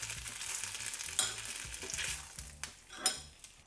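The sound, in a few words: kebabs frying in a pan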